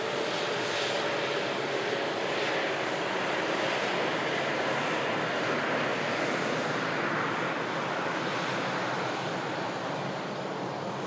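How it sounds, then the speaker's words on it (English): A Scandinavian Airlines Embraer jet arrives at the airport, its engine roar a steady, distant broadband rush that holds throughout with little change. "Scandinavian, Embraer just coming in as well"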